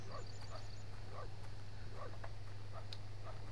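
Faint, repeated short barks and yips from the dog Yuki in the adventure game Syberia 2, a string of small distant woofs over a steady low hum.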